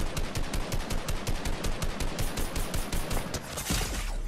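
Steady, dense gunfire in a Fortnite match, a long run of rapid sharp shots in quick succession that keeps going without a break, loud and close, with no talking over it.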